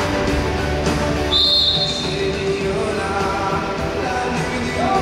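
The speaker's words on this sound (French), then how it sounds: "Coup de sifflet." A referee's whistle at a sports match between Saumur and Nancy gives one sharp, shrill blast lasting under a second, cutting above a constant crowd roar.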